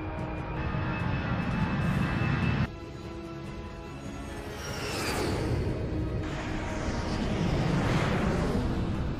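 Airliner jet engines roaring during a takeoff roll at Dubai International Airport, a loud continuous rumble with a rising whooshing sweep midway, no talk.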